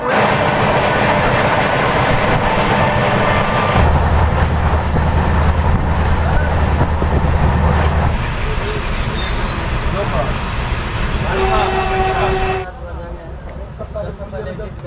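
The Purvanchal Express with LHB coaches runs on its first such service, a loud, continuous rumble and rattle heard from inside or beside the train, with brief tonal whines and a drop in level near the end.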